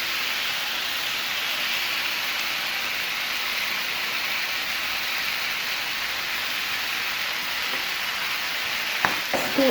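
Chicken with tomato ketchup in a hot pan gives a steady sizzling hiss while being stirred, with a couple of sharp utensil clinks near the end.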